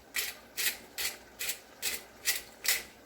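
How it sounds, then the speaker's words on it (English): Black pepper being ground in a hand pepper grinder held upside down: seven even, scratchy grinding twists in a steady rhythm, close and quiet, with nothing else in the background. "I've got a grinder, so I'm just going to turn it upside down and just grind some in it"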